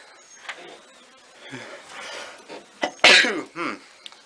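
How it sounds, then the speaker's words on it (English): A sharp, loud sneeze bursts out near the end, preceded by faint breathy vocal sounds and small noises; close and abrupt. "Sorry, and sneeze."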